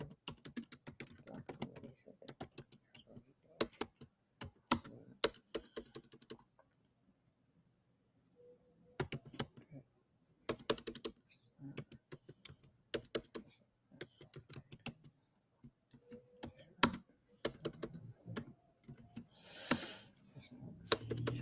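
Typing on a computer keyboard comes in bursts of quick, close clicks, separated by short pauses and one longer silent gap.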